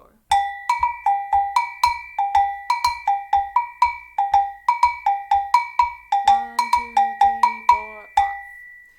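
Agogo bell rings out a fast samba pattern, crisp metallic strikes alternating between high and low bells in a steady, driving up-tempo rhythm, loud and close with no talking.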